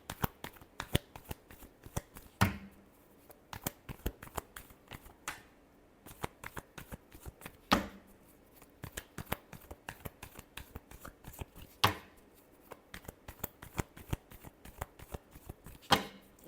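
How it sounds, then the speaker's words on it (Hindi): Tarot cards being shuffled close up: a steady run of soft riffling flicks and slaps with sharper snaps every few seconds, quiet and continuous, with no voice over it. "Last shuffle."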